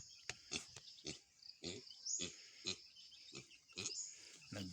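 A single pig on a farm grunting in a steady series of about ten short, rough grunts, close and moderately loud, with no talk.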